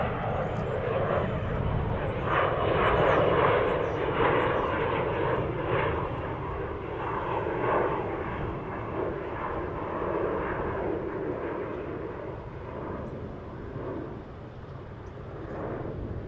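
A Boeing 787 Dreamliner heavy jet arriving from Tokyo Narita on an American flight, a loud sustained engine roar and rumble heard from outside at an airport, slowly fading over the clip, with faint voices in the background.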